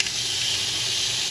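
Steaks sizzle loudly in a hot pan just after being flipped, a steady dense hiss that holds for the whole moment without pause.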